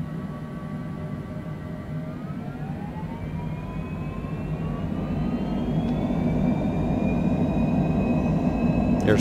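Twin jet engines of a Cessna Citation Longitude in a flight simulator spool up on the takeoff roll, a steady loud roar with rising whine tones that climb in pitch and grow louder throughout.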